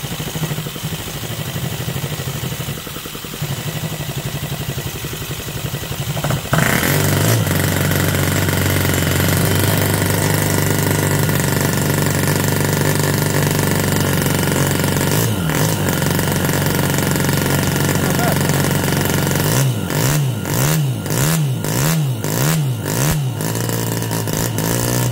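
A Musa FV1A engine running with a raspy, buzzing tone, idling roughly at first, then holding louder and steadier, with a burst of rhythmic revving near the end, close and loud.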